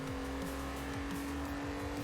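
Racing car in Forza Horizon 4 drifting toward the finish line, its engine holding a steady high drone with a rising-and-falling rev pattern and faint tire noise, loud and continuous with no talking.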